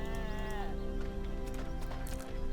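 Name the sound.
sheep bleating in the video game RuneScape 3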